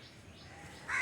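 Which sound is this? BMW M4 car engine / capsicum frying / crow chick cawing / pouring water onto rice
crow chick cawing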